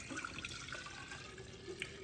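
Rosemary water poured from a mason jar makes a steady, continuous splashing trickle, close and fairly soft, running the whole time with no talking.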